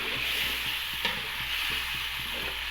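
Chicken liver sizzles in a pan with spices while being stirred, a constant close frying hiss with soft rhythmic scraping of the spatula underneath.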